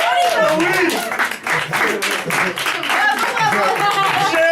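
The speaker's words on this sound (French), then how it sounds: "On l'applaudit oui. en force." An audience claps for a contestant picked for a small theatre show, brisk close applause layered with excited voices talking and cheering over it the whole time.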